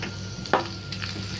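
Chopped garlic and whole red chilies fry in a pan with a steady close sizzle, and a single sharp stirring clack breaks through partway.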